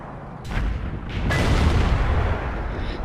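An artillery shell fires and lands in World of Tanks: a few sharp reports blend into a heavy, rolling boom that lingers loud and close, with no talk.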